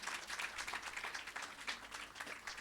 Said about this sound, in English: let's give her a round of applause, and the team and the staff as well